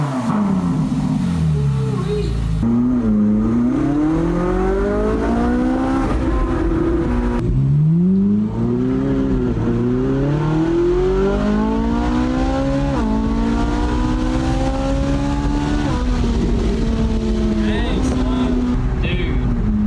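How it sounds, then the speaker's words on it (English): A Ferrari 458 with a stock exhaust starts up and revs hard, its engine note rising and falling in loud, sustained sweeps throughout, with a voice talking over parts of it. "it's absolutely screaming with a stock exhaust"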